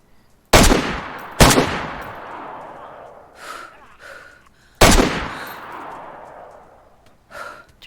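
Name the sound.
gunfire from a gun in the video game DayZ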